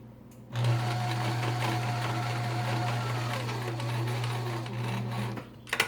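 A sewing machine runs in one steady burst, stitching the bottom edge of a fabric surgical mask at close range, starting and stopping cleanly.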